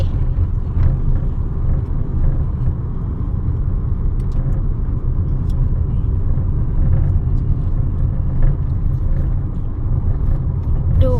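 A car pulls onto a motorway for the first time, its engine and road rumble heard steadily from inside the cabin, loud and unbroken throughout.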